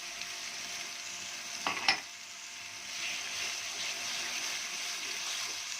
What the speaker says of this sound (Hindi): पेस्ट डालने के बाद थोड़ा सा भूनें।